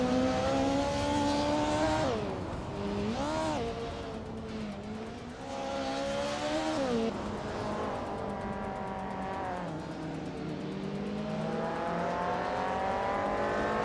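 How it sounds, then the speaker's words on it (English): A 1996 Vauxhall Vectra in a racing video game screams through repeated revs and gear changes, its engine pitch climbing and dropping, with brief tire squeal in a continuous, loud race mix. "Daisy Shanes is driving a 1996 Vauxhall Vectra Dotot."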